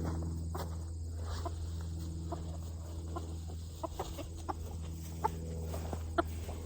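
Backyard chickens cluck in scattered, soft bursts against a quiet outdoor background with a low steady hum and faint crickets; a few sharper clucks stand out near the end.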